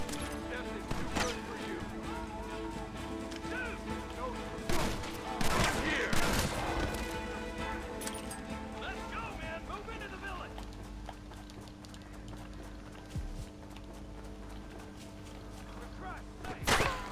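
Red Dead Redemption gunfight with horses: scattered gunshots crack amid hoofbeat clip-clop and shouted voices, several sharp shots standing out over a busy, rumbling background.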